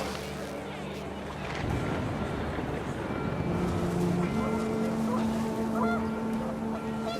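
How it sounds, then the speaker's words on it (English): Panicked geese honk in a windy outdoor scene of the video game What Remains of Edith Finch, with scattered calls over a steady gusty rush, moderately loud, while a voice talks underneath. "The wind picked up, and panicked geese appeared and quickly went."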